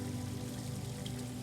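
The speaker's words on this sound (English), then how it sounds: "They added the water features." Water features pouring into a pool with a Pebble Tech lagoon finish, giving a steady, faint, continuous splashing rush with no breaks and no voices.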